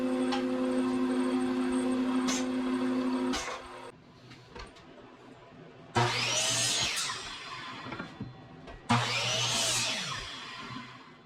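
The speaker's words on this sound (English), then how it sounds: "Now I'll joint the edges of some 5/4 sawn oak stock." A jointer planes the edges of 5/4 sawn oak stock, with a motor hum that gives way to two separate loud bursts of rushing, cutting noise, each lasting a couple of seconds and fading as the pass ends.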